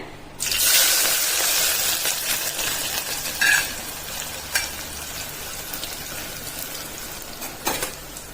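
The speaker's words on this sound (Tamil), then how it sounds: "வெங்காயம் நல்லா வதங்குதுங்க" Two sliced onions hit hot oil, and a loud, steady sizzle starts within the first half second and runs throughout. A few light clinks and stirring taps come through, with no talking.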